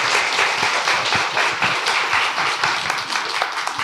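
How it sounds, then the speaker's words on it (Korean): Audience applause at a Korean literary reading event honoring Nobel laureate Jon Fosse, dense continuous clapping from many hands, loud and sustained throughout without speech. "박수 한번 부탁드립니다."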